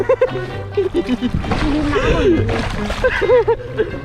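Seawater splashes and sloshes into a small paddled boat off Hat So beach in Sattahip, coming in short bursts beneath excited talking voices.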